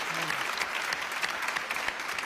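An audience claps warmly at a gathering honoring a young Quran reciter and his family, a dense steady round of applause with a brief voice near the start.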